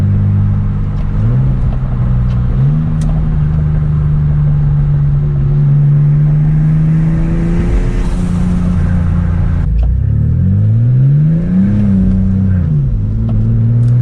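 A turbocharged Infiniti G35 engine drones steadily at close range on a rainy drive, its exhaust note rising and falling as the driver accelerates and eases off, with no talking over it.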